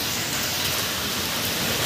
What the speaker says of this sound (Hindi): देखिए बाहर बारिश गिर रही है